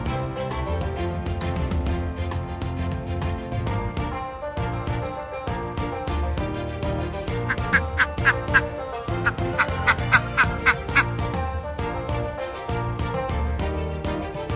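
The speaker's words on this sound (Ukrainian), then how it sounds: "а це качка. Вона говорить кря-кря." A quick run of short, nasal duck quacks bursts out in the middle, set against steady background music with no talking, in a children's cartoon.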